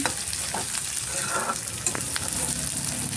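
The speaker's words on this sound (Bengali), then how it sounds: "ভেজে নিচ্ছি" Onions frying in a pan, a steady close sizzle with occasional scrapes and clicks from stirring, continuous and fairly loud with no voices.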